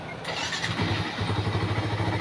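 A motorcycle with a misfire that sputters when the throttle is opened cranks and starts up, then settles into a close, steady, pulsing idle.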